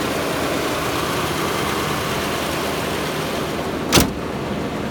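Loud car engine idling on a cheap $500 car, a steady low rumble held throughout with a single short click or knock near the end, no talking.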